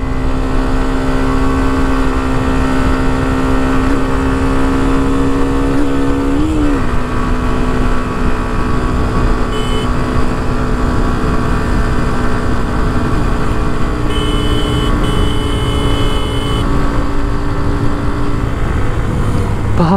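A Hero Xtreme 125R 125cc motorcycle engine climbs through the gears, with its rising whine broken by a brief shift dip partway through. The engine stays loud and close, then continues at a high, steady drone.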